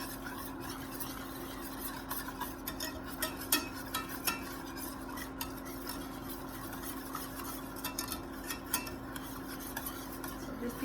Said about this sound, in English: you wanna be whisking it at the entire time